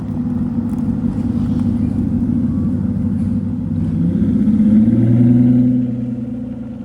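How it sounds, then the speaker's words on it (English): An Aston Martin Vanquish Zagato idles and revs at a Monterey Car Week gathering, a steady, close, loud engine drone that swells into a rising rev near the end, with no talking over it. "the Vanquish Zagato has also started up"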